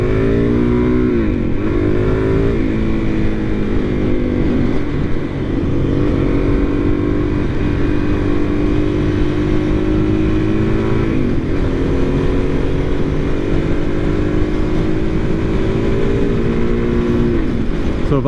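Suzuki DR-Z400SM light supermoto motorcycle at speed in fifth gear, a loud, steady engine drone with harmonic whine and wind rush running continuously throughout, with slight pitch dips around shifts or throttle changes.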